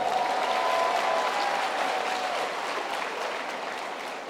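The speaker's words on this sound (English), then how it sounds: "Usually we get a round of applause, a rather big one actually, when we get to health sciences" Sustained applause from a large graduation ceremony audience, dense steady clapping filling the hall for several seconds and slowly tapering off, heard from a distance with no voices.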